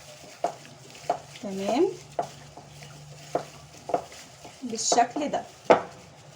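Chicken breasts in an Indian-style shish tawook marinade are stirred by hand, with a series of sharp utensil taps and scrapes against a bowl at an irregular, close rhythm. Someone speaks briefly near the end.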